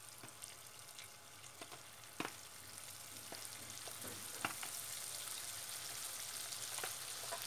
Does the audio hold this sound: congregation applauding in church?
no